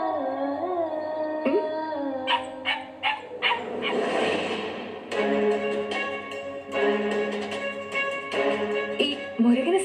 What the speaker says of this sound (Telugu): ఈ మొరిగిన శబ్దం ఇంట్లో నుంచి వస్తుందా?